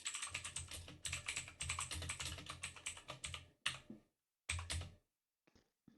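Rapid, sped-up clicking from a computer keyboard runs in dense bursts, then breaks off into a few short pauses and scattered final taps. The typing is close and clear, with no voices.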